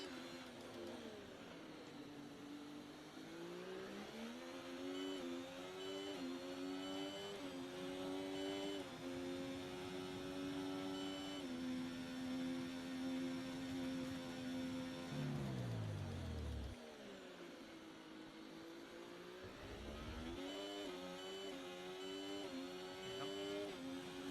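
F1 racing car engine in F1 24 at the Austria track, a continuous high-pitched whine rising through gears with brief drops during shifts and lifts, loud and sustained throughout.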